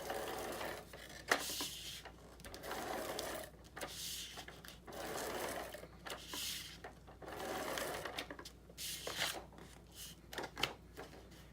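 An ATG adhesive tape gun laying tape onto cardstock makes faint, repeated ratcheting bursts with short pauses between passes, quiet and close, with no voices.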